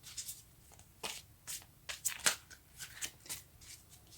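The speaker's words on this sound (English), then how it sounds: "Let's go ahead and get some cards." Tarot cards are shuffled close by in quick, crisp riffling bursts with short pauses between them, no voices.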